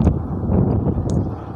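Strong wind buffets a microphone on a night motorcycle ride uphill, a continuous low rumble and roar, loud and steady.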